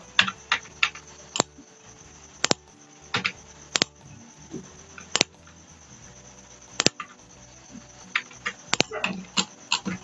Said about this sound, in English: type here about here